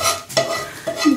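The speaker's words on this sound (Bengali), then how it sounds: "ও চাউমিন রান্না করছে, মোটামুটি রেডি করে নিজেই রান্না করছে" Chow mein being stirred and fried in a wok at home, with a few quick scraping strokes over a soft sizzle, close and fairly quiet.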